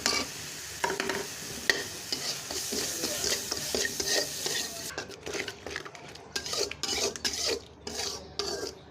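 Garlic paste, onion paste and spices with cardamom and cinnamon fry in a pan while a utensil scrapes and stirs, giving repeated close scraping strokes and clinks over a continuous sizzle, for a papaya curry.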